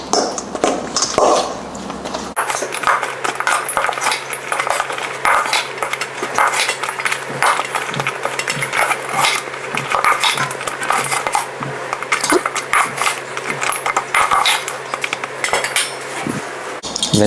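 Buffalo wings get tossed in sauce in a bowl, with steady clinking and scraping of utensils against the dish, close and busy, continuing for several seconds without pause.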